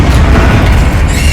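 A Confringo blast spell explodes in Hogwarts Legacy as a loud, close, deep boom that rumbles continuously for about a second and a half.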